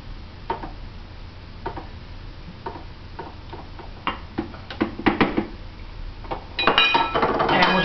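Walnut carob fudge with half a cup of carob powder being mixed, heard as scattered light ticks and clinks of a utensil on a bowl that grow busier and louder toward the end.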